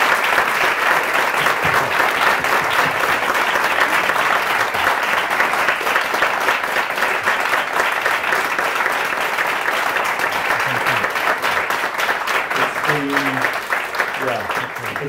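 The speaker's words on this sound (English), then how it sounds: "But I just want to get a round of applause." Sustained audience applause following a live talk, steady and dense throughout, with a few voices surfacing near the end.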